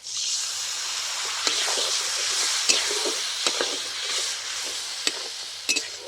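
Spice masala for an egg posto curry sizzles steadily in a pan while being stirred, with a continuous hiss punctuated by occasional clicks and scrapes of the spoon, close and fairly loud with no talking.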